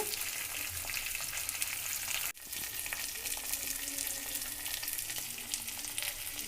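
Onion, curry leaves and a broken dried red chilli sizzle steadily in hot oil while the tempering for a chow chow chutney fries. A brief clatter comes near the start, and the loud frying hiss continues throughout with no talking.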